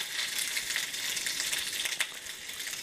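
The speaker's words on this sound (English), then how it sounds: "Just making some bacon." Bacon frying in a pan gives a steady, close crackling sizzle with small pops, one sharper spit near the end, and no voices.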